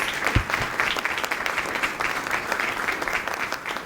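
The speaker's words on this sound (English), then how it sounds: "we really give him another round of applause for all the work that he has done for us" A burst of applause from a small crowd at a school board meeting, steady clapping throughout with no voices over it.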